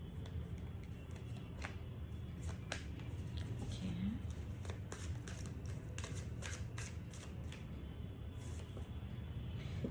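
Tarot cards are shuffled and drawn, giving a quiet, steady stream of crisp riffling clicks and snaps over a constant low background hiss.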